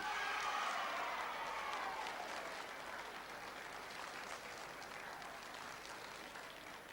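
A large crowd at a 1986 Tasmanian Football League medal count, the William Leitch Medal night, erupts in sustained applause and cheering for Andy Bennett, a loud wash of clapping that slowly eases but keeps going throughout.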